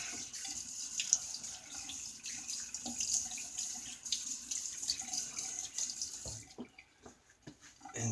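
A faucet runs steadily into a sink to rinse a vintage Williams double-edge safety razor, a continuous hiss of flowing water with brief splashes, cutting off near the end.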